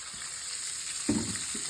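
Chopped onion dropped into hot oil already tempered with mustard seeds, cumin and curry leaves, a steady close hiss that flares into a sharper sizzle burst midway, no talking.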